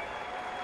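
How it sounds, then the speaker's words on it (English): A big crowd on the far side of a stadium at a France v Italy women's rugby match applauds an injured player being carried off, steady dense clapping throughout with no voices on top. "receiving sympathetic applause from the big crowd on the far side"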